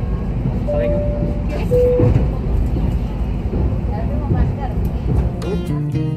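Steady rumble and rattle inside a moving Sawunggalih economy-class train in Indonesia, a continuous loud ride noise with brief tonal squeals and clunks, while a person talks over it.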